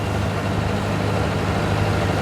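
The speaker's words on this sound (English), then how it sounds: "let me get some revs on." Steady low engine drone of a boat cruising on the Norfolk Broads, loud and close, holding an even pitch with no clear rise in revs and no voices.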